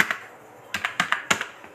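A captcha is typed on a computer keyboard as a brief run of about half a dozen crisp keystrokes, close and quiet.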